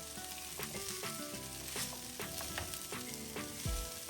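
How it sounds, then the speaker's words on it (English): Okra and potato coated with besan fry in a pan, giving a dense, continuous sizzle and crackle with light stirring scrapes, close and steady, with no voices. "I'm gonna fry for a few more minutes and it'll be ready to serve."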